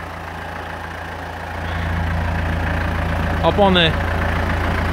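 A 2003 Renault Celtis 456 farm tractor with about 7,400 working hours idles in a steady, low, continuous rumble that swells slightly partway through, while someone speaks briefly over it.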